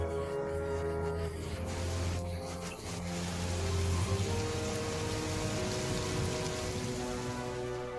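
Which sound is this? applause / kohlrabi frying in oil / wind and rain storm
wind and rain storm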